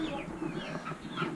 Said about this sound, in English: We'll check the chickens.